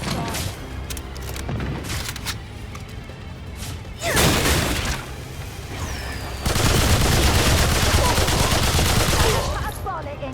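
Gunfire from the video game Remnant 2: several loud bursts of rapid shots and booming impacts, with stretches of dense, sustained firing and a crash between them.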